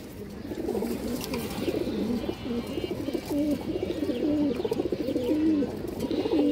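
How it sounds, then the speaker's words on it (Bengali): Big red-eyed pigeons cooing close by in a loft, repeated soft throaty coos overlapping one another in a steady rolling pattern, with no talking. "এই যে দেখেন লাল দানা চোখের কবুতর"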